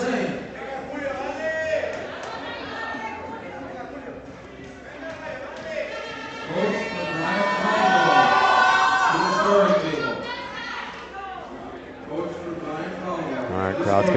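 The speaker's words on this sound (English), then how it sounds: "All right, crowd's getting behind him" Crowd at a 74 kg men's powerlifting championship cheering a lifter before a big deadlift pull, a steady roar of voices swelling louder midway and staying dense throughout.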